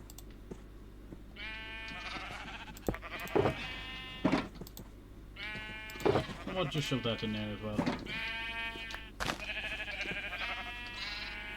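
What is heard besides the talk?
sheep bleating in the video game Minecraft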